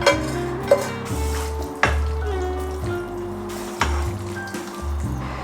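Ground turkey sizzling and being stirred in a hot pan during meal prep, with loud scraping strokes repeating every second or two over a steady frying hiss.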